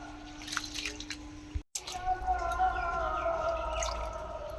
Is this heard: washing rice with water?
yes